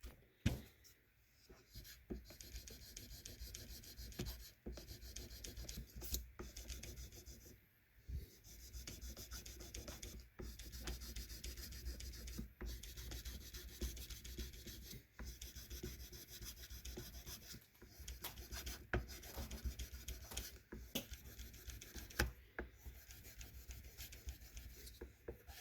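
Guitar frets on a Jackson compound-radius neck are polished with a 2000-grit abrasive eraser, a close, steady scratchy rubbing in back-and-forth strokes broken by brief pauses.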